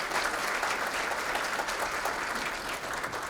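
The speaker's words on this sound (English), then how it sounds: "how about a round of applause for all the folks from Inside Out" Audience applause at a character recognition awards ceremony, a dense, steady clapping from a full room that carries evenly throughout without any voices over it.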